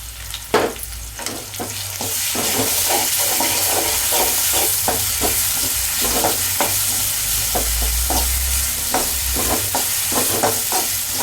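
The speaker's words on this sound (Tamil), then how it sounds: "இந்த ஸ்டேஜில் நம்ம அரைச்சி வச்சுருக்க விழுதை போட்டுக்கணும்" Ground masala paste fries for a stingray fish curry, a loud, continuous close sizzle broken by regular scraping strokes of a spoon stirring in the pan, with no talking.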